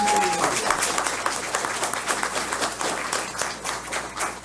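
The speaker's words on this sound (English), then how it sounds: "Let's give a round of applause to these outstanding educators." A school board meeting audience claps for honored educators, moderately loud applause that fades unevenly over a few seconds.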